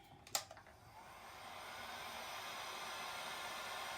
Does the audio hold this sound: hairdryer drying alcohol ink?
yes